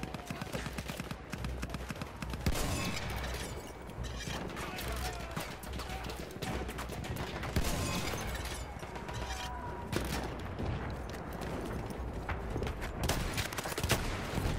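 Dense Battlefield 1 gunfire with shotgun blasts amid a continuous chaotic battlefield mix, sharp reports recurring throughout under faint voices.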